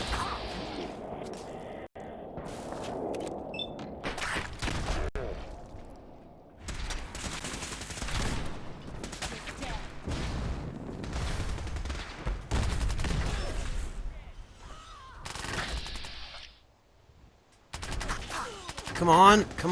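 Gunners in a video game opening fire, with bursts of loud shots and crashes that come and go amid busy battle noise, while a person talks over parts of it.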